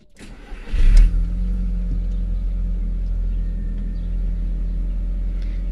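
A Toyota MR-S or Audi TT MK1 with a stock dual exhaust idles steadily and fairly quietly, a low even rumble after a brief louder swell near the start, with no talk over it.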